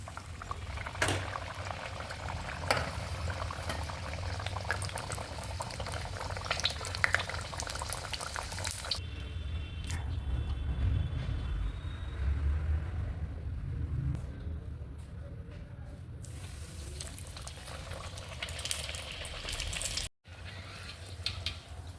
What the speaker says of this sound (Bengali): এবারে আস্তে আস্তে কচুরিগুলো গরম তেলে ছেড়ে দিতে হবে।